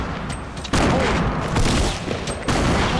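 Dense video-game gunfire rattles almost without a break, loud and close, with heavy bursts kicking in partway through and again near the end as the shooting rises and falls.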